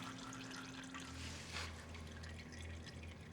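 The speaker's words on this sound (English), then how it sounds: "While the oil is draining" Engine oil from a Peugeot 208 1.2 PureTech drains into a catch pan, a faint steady trickle and pour of liquid heard alone throughout.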